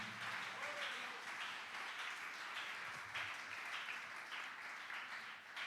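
A church congregation applauding during a sermon, a dense sustained wash of clapping at a modest distance that carries on throughout.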